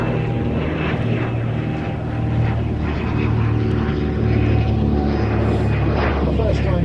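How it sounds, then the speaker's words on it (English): A de Havilland DH-88 Comet leads a DH-100 Vampire jet in a rare airshow flyby, a droning engine rumble with pulsing propeller throb that rises and shifts as they pass, with a commentator talking over it. "First time together, DH-88 Comet leads the DH-100 Vampire."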